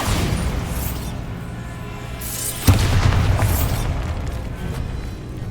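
Bombarda explosion spell in Hogwarts Legacy, a rumbling magical blast that swells, then cracks into a sharp loud boom midway, followed by a lingering roaring tail.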